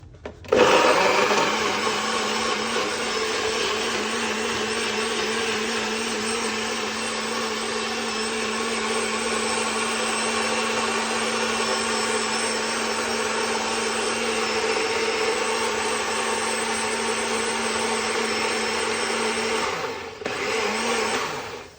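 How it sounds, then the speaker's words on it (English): A powerful countertop blender whirs at full speed, blending ginger and lemon into a drink, a loud steady roar held for about twenty seconds before cutting off with a brief stutter near the end. "let's put on the lid. And blend him up."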